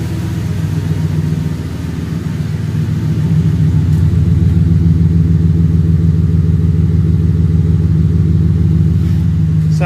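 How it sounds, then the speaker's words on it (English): A 2012 Ford F-150 truck idles with a steady, deep engine and throaty exhaust rumble, running continuously and loud throughout with no voices. "Sounds good, exhaust is strong."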